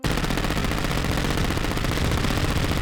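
A gun in Terraria firing luminite bullets at test dummies, a continuous, dense, rapid stream of loud shots with no pauses from start to finish.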